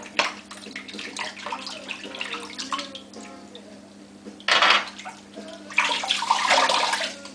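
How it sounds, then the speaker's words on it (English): Tap water runs and splashes during a wet shave rinse, a steady hiss with louder surging bursts as hands and face move through the stream, close up and with no talk. "Get a final rinse here."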